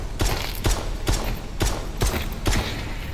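Rapid pistol shots in the VR game SCP Labrat, in a steady rhythm, about six sharp cracks spaced half a second apart over a dense background of game noise.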